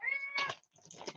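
A pet cat meows close by, one drawn-out call followed by a shorter second one after a brief pause.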